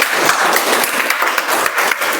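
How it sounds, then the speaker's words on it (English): Sustained, dense clapping from a meeting audience, loud and close, running unbroken through the whole short stretch. "Please give him a big round of applause."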